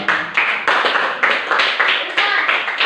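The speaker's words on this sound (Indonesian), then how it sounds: "Beri aplaus untuk mereka." A classroom group applauds during a teaching-practice lesson: close, lively clapping that comes in rhythmic surges for about three seconds, with no voices over it.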